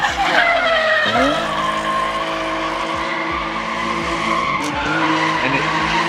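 A Honda CRX with a B18 engine is driven hard nearby, its loud revving engine climbing and dropping through gear changes while the tires squeal and skid steadily.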